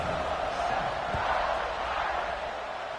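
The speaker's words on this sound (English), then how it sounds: "You think this crowd's going to get loud when their defense comes on the field?" A stadium crowd in the College Football 26 video game at a Notre Dame matchup keeps up a steady, dense roar that holds at an even level without clear peaks.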